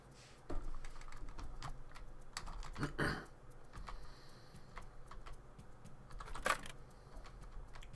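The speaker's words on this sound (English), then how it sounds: "Like the echo from clicking these into place." Pieces click into place in the GoldRush video game, a quiet run of small taps and clicks with a couple of louder, echoing snaps, played alone without talk.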